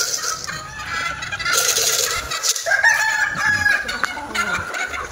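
A rooster crows loudly and close by among clucking chickens kept in a yard, the crow rising mid-clip over a steady bed of hen clucks and chatter.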